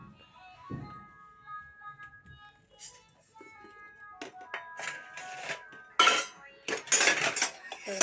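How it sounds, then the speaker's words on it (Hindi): Freshly washed steel dishes, pots and cutlery set down in a home, giving clear close clinks and clattering that grow busier and louder toward the end, with brief talk early on. "आप लोग देख सकते हैं बर्तन धुल के ला के रखे हैं"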